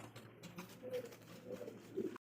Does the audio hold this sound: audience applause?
no